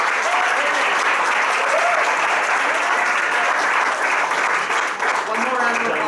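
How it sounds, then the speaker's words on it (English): Sustained applause from an audience at a Vermont voting-rights celebration, steady dense clapping for a departing speaker throughout, with faint voices mixed underneath. "One more round of applause for Jim."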